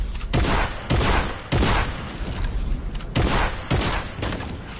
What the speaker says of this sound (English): Why are you shooting?